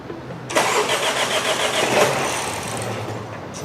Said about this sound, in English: We're getting crank and no starts.